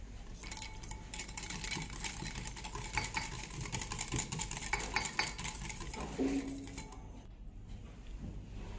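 Potato salad being stirred with a spoon after mayonnaise, black pepper and salt go in, giving a steady soft scraping and clinking against the bowl throughout, with a low background hum and no talking.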